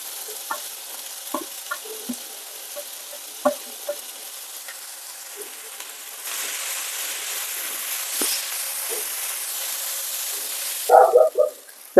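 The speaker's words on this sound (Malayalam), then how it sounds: "ഇതിലാണ് നമ്മൾ ഉള്ളി വാട്ടാൻ പോകുന്നത്. അതിനുവേണ്ടി കുറച്ച് വെളിച്ചെണ്ണ ഒഴിച്ചിട്ടുണ്ട്." Finely chopped onions sautéing in coconut oil for chicken biryani, a soft, faint sizzle with scattered spatula taps and scrapes, swelling a little midway and ending in a few louder clanks.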